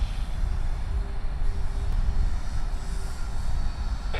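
Airliner landing at Sydney Airport, a loud continuous low roar of engines and rushing air heard from nearby, steady throughout with no voices.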